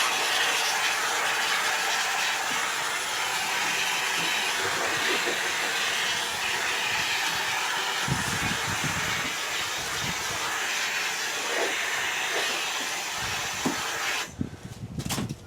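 A continuous loud hiss of steam spraying from a cleaner, broad and steady, with a few brief bumps before it cuts off near the end.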